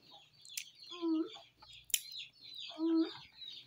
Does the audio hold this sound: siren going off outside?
no